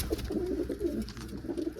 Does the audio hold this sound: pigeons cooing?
yes